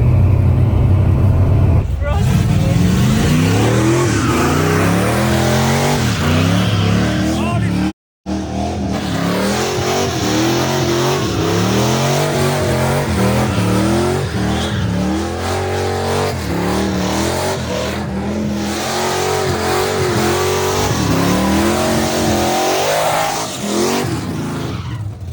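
Cars drifting, including a Firebird, with loud revving engines and sustained tire squeal, a dense and continuous roar that cuts out once briefly, with voices mixed in.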